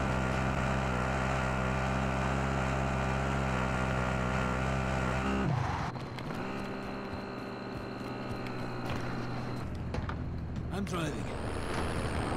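A vehicle drives in Call of Duty Warzone, its steady engine drone humming loud and close, then dipping and shifting pitch partway through as it changes gear or terrain, with faint radio-style voice chatter underneath.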